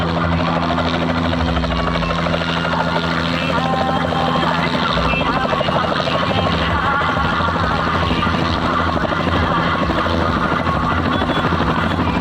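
A helicopter lands at a wedding in Shehera taluka, bringing the groom. Its loud, steady rotor and engine roar is close and continuous throughout, with faint crowd voices beneath.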